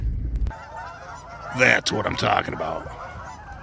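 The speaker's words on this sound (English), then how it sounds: "I'm seeing Canadian geese everywhere, which in upstate New York in January, you don't see." Canada geese honk loudly and close by in upstate New York in January, giving a burst of harsh overlapping calls in the middle, and someone speaks briefly nearby.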